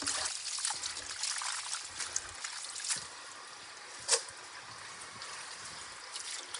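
Water trickles and splashes steadily in a kitchen as leaves are washed for Haitian bouyon, with one sharper splash near the end and no speech.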